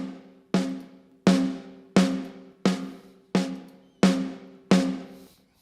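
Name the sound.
drum mix with lo-fi distortion and saturation added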